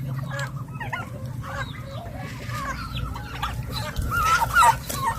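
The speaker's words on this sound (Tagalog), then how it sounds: "Yung mga native na manok," Native chickens cluck steadily in a farmyard at feeding time, with several short calls overlapping at moderate distance above a constant low rumble, and one louder burst of clucking near the end.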